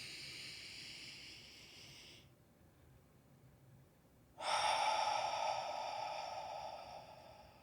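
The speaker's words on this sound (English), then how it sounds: "Breathing in." A slow, deep breath drawn in during a guided chakra meditation, a soft airy hiss that fades out midway, falls near silent for about two seconds, then returns fuller and louder, with no talk over it.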